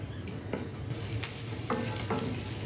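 Onions frying over medium heat in a pan for vegan street tacos, a steady dense sizzle with occasional scraping stirs, close and continuous with no talking.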